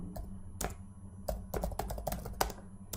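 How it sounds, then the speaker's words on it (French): Keys clack on a computer keyboard in irregular bursts of close, crisp taps, a few isolated strokes at first and then a quicker run of typing, with no talk. "c'est mieux si je tape mieux."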